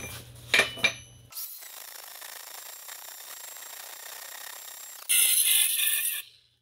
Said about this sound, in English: So I'm gonna grind it until it does.